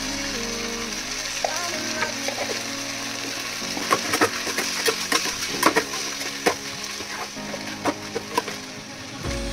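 Okra (bhindi) frying with chilli powder in a pan over high heat, a steady close sizzle broken by scattered crackles and pops, with stirring scrapes and faint background music tones.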